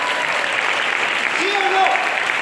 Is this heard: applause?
yes